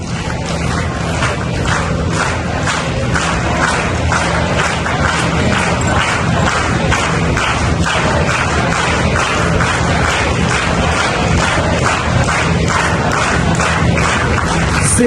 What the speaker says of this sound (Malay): tepukan yang gemuruh iaitu tepukan tradisi SMK Sungai Pusu